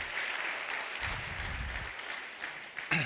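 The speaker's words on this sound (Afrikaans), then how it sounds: "Kom ons gee vir 'n lekker hande klap" A burst of applause from a gathered crowd at a church youth service, steady clapping that continues throughout before trailing into a sharper final clap or two.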